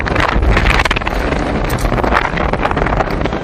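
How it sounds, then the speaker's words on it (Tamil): Strong dusty wind swirls across the road to Marudhamalai at Kanuvai, Coimbatore, a loud, gusty roar buffeting the microphone in uneven surges. "கோவை கணுவாய், மருதமலை செல்லக்கூடிய சாலையில் புழுதி காற்று சுழன்றடித்தது"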